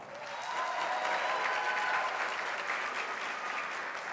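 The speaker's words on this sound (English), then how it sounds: "please give a nice round of applause for our Student Council Vice President, Emily Rinaldi." A school audience at a student pageant claps steadily for a student council officer, a dense, even wash of applause that swells and holds for a few seconds, with no talk.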